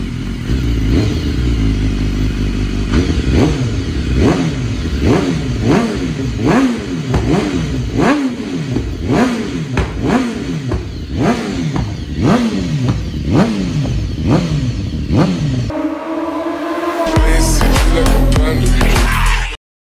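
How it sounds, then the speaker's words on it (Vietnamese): A 2016 BMW S1000RR sport motorcycle's engine revs close by in a rapid series of sharp throttle blips, each rising and falling, before a sustained higher-pitched rev at the end. "Đây, trước mặt anh em đây là con BMW S1000RR, cái con này đời 2016."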